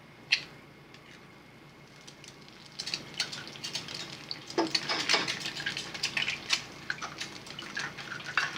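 Two eggs cracked into a frying pan on a stove, giving a few soft clicks and wet splats that lead into a busy, crackling sizzle, close and fairly quiet with no voices.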